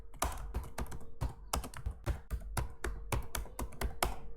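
Python code being typed on a computer keyboard, a steady run of crisp, close key taps with a few louder keystrokes mixed in, over a faint hum and with no talking.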